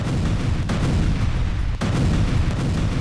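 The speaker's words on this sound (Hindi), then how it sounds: "विस्फोटक बिछाकर टनल को तबाह किया गया" Explosives blowing up a Hamas tunnel in Khan Younis, Gaza, heard as a loud, sustained roaring rumble with dense low booming that barely lets up, two brief dips in between.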